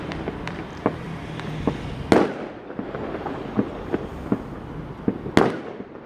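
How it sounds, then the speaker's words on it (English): Bonfire Night fireworks burst at a distance over London, with scattered pops and crackles and two louder bangs standing out over a steady background hum. "The fireworks themselves are different colours."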